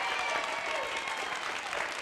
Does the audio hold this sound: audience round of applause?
yes